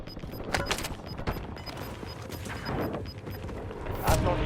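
Call of Duty: Warzone gunfire: scattered sharp shots and short bursts crack at irregular intervals, some distant, with a heavier blast near the end over a faint ticking game tone.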